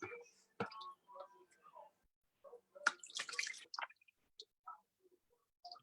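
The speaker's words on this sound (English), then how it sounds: "if you squeeze them, they're almost pretty much dry when you squeeze all the water out of them" Water drips and squishes from wet pom-poms being squeezed out, a scattering of close, irregular drips and splashes between quiet pauses.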